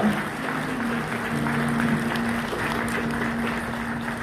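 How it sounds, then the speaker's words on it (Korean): Wedding guests applauding after the bride and groom bow to each other, a dense, steady wash of clapping from a large crowd filling the room without pause, with faint voices beneath. "두 사람에게 뜨거운 박수 부탁드립니다"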